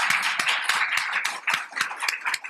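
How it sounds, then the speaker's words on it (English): A lunchtime Rotary Club audience applauds a guest speaker with dense, steady clapping from many hands, sustained and fairly loud throughout with individual claps standing out near the front. "Let's give him a round of applause"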